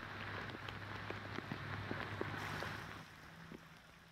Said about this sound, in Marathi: खोपोलीमध्ये जोरदार पाऊस सुरू आहे